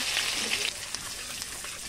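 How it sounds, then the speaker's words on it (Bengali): Chopped ginger hitting hot oil in a home kitchen pan, a soft continuous sizzle with a few brief crackles and stirring clicks, quiet and close, no voices. "তেলের মধ্যে একটু আদা কুচা দিয়ে দিচ্ছি"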